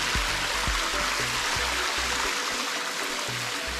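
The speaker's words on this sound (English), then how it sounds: "The golden waterfall." Rushing water roars steadily as a broad hiss, with low thumping pulses underneath, like a waterfall heard up close.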